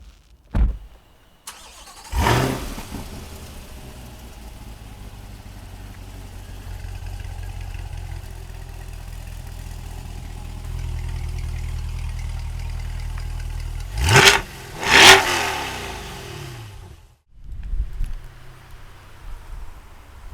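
A 2021 Chevrolet Corvette engine cranks and fires up with a sharp roar, settles into a steady, deep idle, then gives two quick loud revs before shutting off, heard close and without talk.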